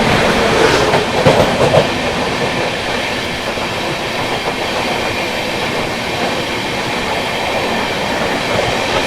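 Sampoorna Kranti Express passenger train rolling past close by, a steady loud rumble with clattering wheels on rails throughout, no voices.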